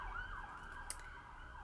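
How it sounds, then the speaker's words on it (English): An ambulance siren wails in a steady, sweeping tone while passing at a moderate distance, with a brief sharp click partway through and constant background hum underneath. "You heard the ambulance?"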